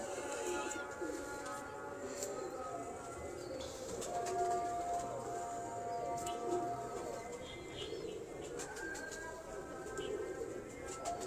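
Saleti Teddy pigeons kept by a fancier coo in soft repeated low calls, faint and mixed with occasional chirps beneath people talking nearby.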